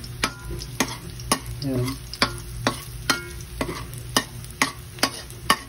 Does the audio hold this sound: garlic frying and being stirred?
yes